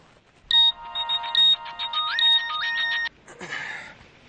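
Mobile phone ringtone playing a repeated electronic melody during an outgoing call, loud and close, for about two and a half seconds, followed by a brief burst of noisy rustle.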